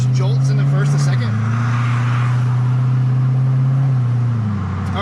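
An LS2-swapped BMW Z3 M Roadster with an automatic gearbox accelerates with a loud, steady engine drone, and the pitch drops at a shift from first to second. Someone talks over the engine.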